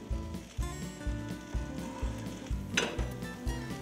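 Mushrooms frying with garlic and onions in a pan, a steady sizzle under a rhythmic repeating thump and clatter of stirring, close and fairly quiet, no speech.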